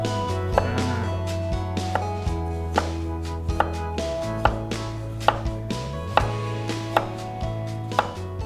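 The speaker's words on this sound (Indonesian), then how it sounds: "kemudian kita juga akan iris-iris tipis ya wortelnya" Thin slices of carrot being cut with a knife on a cutting board, about fourteen crisp, evenly spaced chops close up, with no talking.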